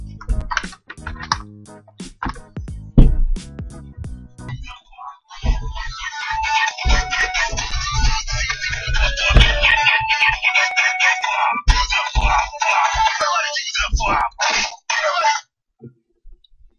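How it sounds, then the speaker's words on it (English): A tonal electronic alarm goes off after a stretch of clicks and short noises, sounding continuously at steady loudness for about ten seconds before stopping abruptly. "my alarm is going off."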